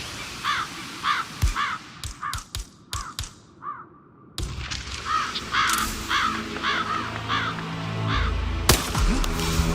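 Crows cawing repeatedly in a Hitman video game scene, harsh calls in irregular bursts over ambient game noise, with sharp thumps and clicks scattered through and a fuller background bed in the second half.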